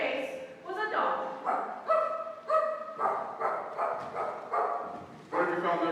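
Stage-play dog barking: repeated bright yelping barks in a steady rhythm across the stretch, close and fairly loud, with the harmonic quality of a human voice imitating a dog rather than a real animal.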